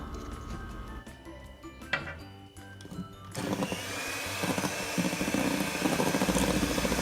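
An electric mixer beats cake batter with vanilla essence for an orange cake, starting after a few seconds of quieter kitchen clatter and then whirring steadily and loudly to the end.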